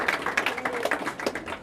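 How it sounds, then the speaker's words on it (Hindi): A classroom of students claps for a classmate's exam result: a short burst of dense, moderately loud applause of many hands, fairly close and continuous, with no talk over it. "जोरदार ताली इनके लिए भी"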